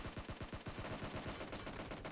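Automatic gunfire in the mobile battle royale game PUBG Mobile: a rapid rhythmic burst of shots, about ten distinct cracks in the first half, then blurring into continuous noisy fire, fairly faint in the mix.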